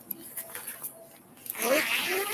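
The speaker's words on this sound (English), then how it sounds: "it zips up" A zipper runs closed around a double-sided fabric knife roll, with a few light handling taps first and then a longer rasping zip near the end, while someone talks quietly.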